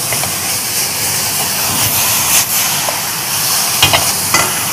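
Chayote flowers and scallions stir-fried in a hot pan, with a loud, steady sizzle and hiss broken by a few scraping stirs near the end.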